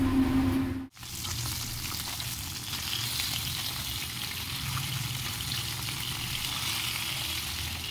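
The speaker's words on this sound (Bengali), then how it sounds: "এই যে মাছটাও ভাজবো। মাছ নুন হলুদ মাখিয়ে রেখে দিয়েছি।" Fish rubbed with salt and turmeric fries in a pan, a steady crackling sizzle that continues throughout after a brief sharp break near the start, with no voices.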